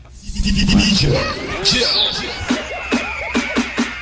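A goat bleats in a wavering, drawn-out cry, then gives a run of short, evenly spaced bleats, heard amid people talking in the background.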